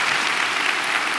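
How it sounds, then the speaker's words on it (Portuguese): Steady applause fills a church service, a dense wash of many hands clapping together at moderate volume with no talk over it. "E vamos aplaudir a Jesus, pessoal."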